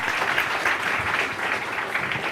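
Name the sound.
audience applause for summit panelists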